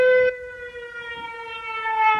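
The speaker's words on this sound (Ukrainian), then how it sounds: "О, повітряна тривога, прошу пробачення." An air raid siren in Ukraine wails in a steady sustained tone, loud at first and then dropping slightly to a constant drone before swelling again, with no one speaking.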